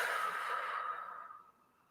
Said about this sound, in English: And that slow and even exhale out through the mouth.